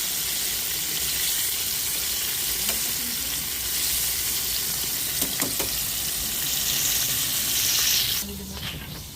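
Chicken fries in hot oil in a backyard, giving a steady, continuous sizzle with faint clinks and small bumps, fairly close, growing a little brighter near the end.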